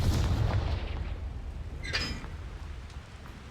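Confringo spell cast in the Hogwarts Legacy video game on PC: a deep booming blast with rumbling low end, then a bright crackling burst, with no voices.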